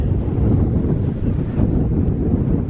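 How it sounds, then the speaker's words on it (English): Heavy wind on a sea wall buffets the microphone in a loud, unbroken rumble, with faint surf-like wash beneath and no talking. "You might not be able to hear a thing I'm saying because it's so windy"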